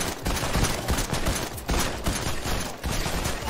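Dense gunfire in the video game Fortnite, a sustained rattling fusillade of rapid shots with a few brief breaks, loud and continuous throughout.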